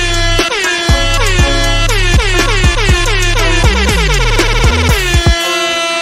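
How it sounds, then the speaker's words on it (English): A loud air horn blasts repeatedly in a fast, rhythmic series of short honks, layered and brassy, ending in one long sustained blare. "Y'all need the air horn too, man."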